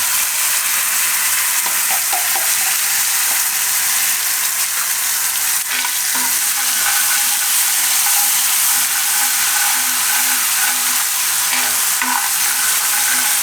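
Garlic, asafoetida, red chilli and ground red chilli-onion chutney frying in a pan, a loud, continuous sizzle with occasional clinks and scraping of a spoon stirring throughout, and no voices.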